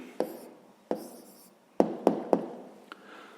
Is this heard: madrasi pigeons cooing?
no